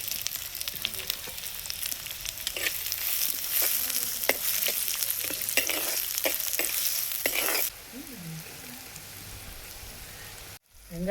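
Onions and two dried red chillies fry in a pan, giving a steady crackling sizzle with sharp pops and stirring scrapes, then a quieter, softer sizzle toward the end.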